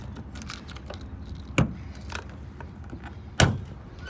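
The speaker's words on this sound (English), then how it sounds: "we'll shut the car off and get the keys and unlock the trunk" Car keys jingle while the trunk of a 1975 Fiat Spider is unlocked. There are light metallic rattles throughout and two sharper clicks from the lock mechanism, fairly quiet and close.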